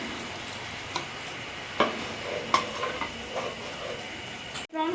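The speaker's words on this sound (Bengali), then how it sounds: "এবার ভেজে রাখা চিংড়ি মাছটা দিয়ে দিচ্ছি" Fried prawns stirred into a sizzling pan with crushed black pepper, giving a steady close sizzle broken by scattered clinks and scrapes of a spatula, then a sudden brief drop near the end.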